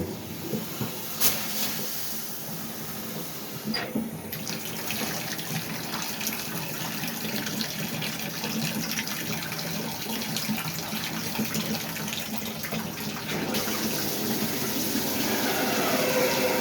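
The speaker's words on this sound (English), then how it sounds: "I'll see if I can see where that water is really coming from." A Symmons shower valve lets water run in a steady hiss and spray, nearby and continuous, with a couple of faint clicks and no talking.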